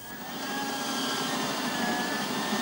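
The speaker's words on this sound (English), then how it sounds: "and then we drill an 8-foot hole." Continuous loud mechanical roar with a steady high whine of a drill boring a hole in a mine, running without pause, no talking.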